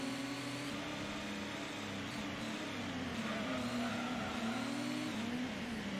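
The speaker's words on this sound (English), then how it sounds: "It's that sound of the car behind me that scares me." A race car engine roars close behind the player in the original Gran Turismo racing game, a sustained high droning whine with slight pitch shifts and no talk.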